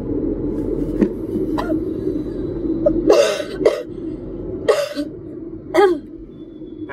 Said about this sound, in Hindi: इतना क्यों खांस रही है।